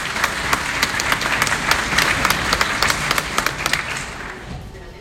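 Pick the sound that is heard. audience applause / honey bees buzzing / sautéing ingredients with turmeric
audience applause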